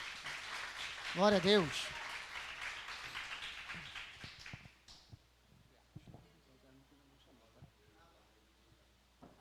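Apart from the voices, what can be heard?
congregation applauding in church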